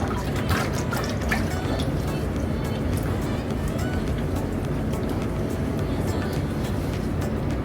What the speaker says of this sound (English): Then you can give that a rinse in some water.